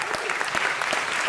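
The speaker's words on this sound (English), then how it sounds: "Give Manuel a big round of applause" Dense, steady applause fills a city council chamber for a youth coach being recognized, many hands clapping together at close range without pause.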